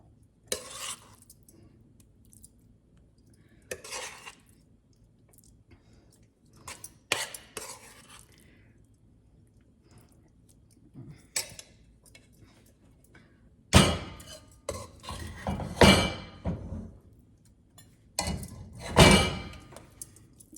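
A spoon stirring and mixing quinoa gongura rice in a metal pot, with scattered scrapes and clinks at first, then louder, denser bursts of scraping and knocking toward the end, close and without talk.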